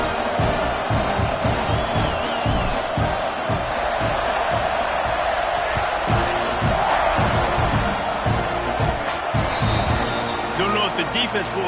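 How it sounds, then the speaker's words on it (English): Stadium crowd noise during a kickoff in the Madden football video game, a steady loud roar of cheering and chatter with brief whoops and rising swells throughout. "this crowd is feeling themselves after that last drive"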